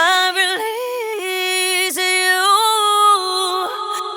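A sustained, heavily processed vocal line with throw delays and reversed pieces, smooth pitched tones gliding and swelling with brief dips and reverse-like sweeps, continuous and fairly loud with no talk over it.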